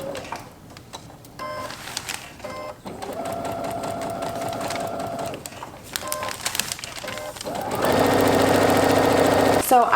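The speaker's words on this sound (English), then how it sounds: "And my presser foot is automatically lifted up so that I can pivot this and keep sewing." Sewing machine stitching fabric for a quilt block, with several close, rapid runs of whirring stitches that stop briefly while the presser foot lifts for pivoting, then resume, louder toward the end.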